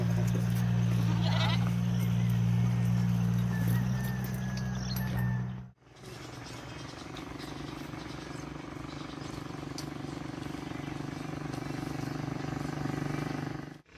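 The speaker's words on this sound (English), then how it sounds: "Some baby goats and a mother goat in my front yard." Baby goats and a mother goat bleat in a front yard on a morning walk, with steady, close, sustained cries for about six seconds before a sudden cut to quieter outdoor ambience.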